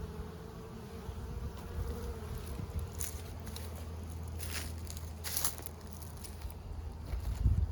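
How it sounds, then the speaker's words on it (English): Yellow jackets buzz around the tops of beehives outdoors on a fall day, a continuous faint droning hum with occasional louder passes as insects fly near, and no speech. "There's yellow jackets on the top of these hives."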